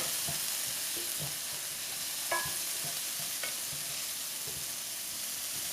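Onions with spices cooking in an Aroma 3 in 1 Super Pot, a faint continuous sizzle with scattered light clicks and taps, no voices.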